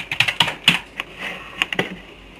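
Fingers typing on a computer keyboard, a short burst of crisp close key clicks in an uneven rhythm, with a brief pause partway through, no speech.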